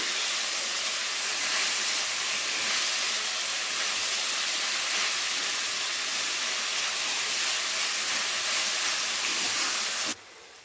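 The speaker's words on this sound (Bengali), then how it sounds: "আর এটা ততক্ষণ ভেজে নিতে হবে যতক্ষণে না টমেটোগুলো গলে যাচ্ছে ভালো করে।" Tomatoes frying with salt in a pan, a loud, continuous broadband hiss of sizzling oil that holds steady throughout, then drops off abruptly near the end.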